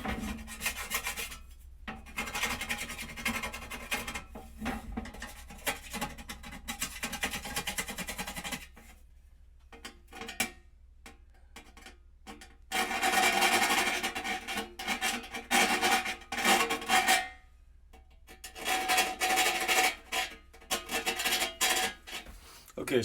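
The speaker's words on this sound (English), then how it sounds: "Now I'm going to take my file and file all the holes." A hand file rasps repeatedly over the holes of a homemade backpacking hot-tent wood stove, in long runs of steady, close scraping strokes broken by short pauses, with no talk.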